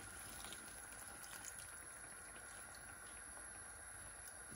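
Water poured into a pot over rice for jollof, a steady broadband wash of liquid running continuously throughout at moderate level with no talking.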